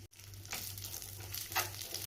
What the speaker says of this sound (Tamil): இதில் கொஞ்சம் நட்ஸை ஃப்ரை பண்ணிக்குவோம்.